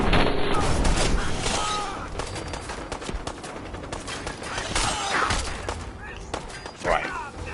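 Gunfire in the video game Fallout 4, a busy stretch of rapid shots and thuds behind background game noise and voices, moderately loud and continuous.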